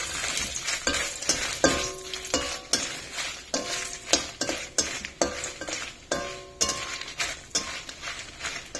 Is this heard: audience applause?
no